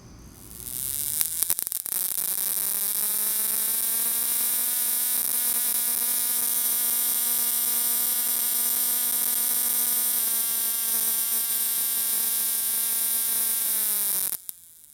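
A hand-built Ruhmkorff induction coil with an outside primary and a core of many small wires buzzes steadily for about twelve seconds. The harsh tone is rich in harmonics and carries a crackling spark, switching on and off abruptly.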